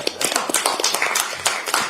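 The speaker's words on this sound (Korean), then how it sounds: "위로와 응원의 박수를 부탁드리겠습니다." Applause at a Korean political party's supreme council meeting, as attendees clap in support: dense, steady clapping from a roomful of people, moderately close, continuing for the whole two seconds without talk.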